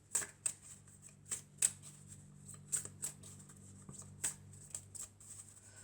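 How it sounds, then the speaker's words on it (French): Cards from a deck used in a card reading are handled and drawn, giving a series of quiet, crisp flicks and snaps at irregular intervals over a low hum. "Alors, je vais prendre encore une carte."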